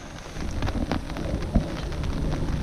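Rain pattering steadily on a fishing brolly at a carp lake, a dense close hiss of drops with a few louder taps and a soft thud, no talking.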